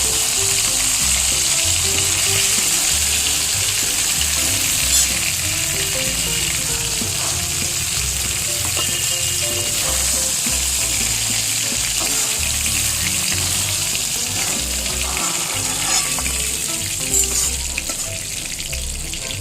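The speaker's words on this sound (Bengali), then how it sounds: "এই মাছগুলো ভাজা হয়ে গেল, আমি এবার তুলে নেব" Fish frying in a kadai for a homestyle fish curry with vegetables, giving a steady, loud, dense sizzle of hot oil that runs without a break. Faint clinks and stirring sounds come through now and then. No one speaks.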